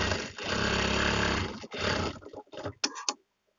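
A sewing machine stitches a sleeve design in one loud, continuous run lasting over a second, then several short stuttering bursts before it stops.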